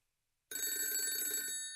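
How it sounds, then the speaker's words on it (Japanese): An old telephone bell rings sharply after a moment of silence, a single bright, metallic burst of rapid ringing that stops after about a second. "電話のベルが激しくなった"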